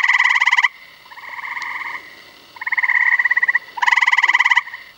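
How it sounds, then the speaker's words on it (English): Frogs in a Maine pond in spring: gray tree frogs give loud, pulsing trills in overlapping bursts, close and clear, with a green frog calling among them. "you can hear its call in this video with a background of chorusing gray tree frog trills."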